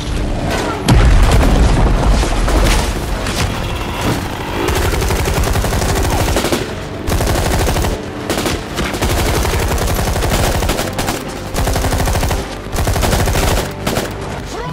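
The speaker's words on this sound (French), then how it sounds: "Lance-roquette." A rocket launcher goes off with a heavy boom and is followed by rapid bursts of gunfire, loud and close, with gun battle noise carrying on in irregular volleys.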